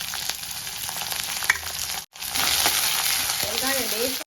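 Onions, garlic, curry leaves, green chillies, cinnamon, cloves and bay leaf sizzle steadily in hot oil in a pan for kadappa, a dense continuous frying hiss with a brief break midway and faint stirring scrapes near the end.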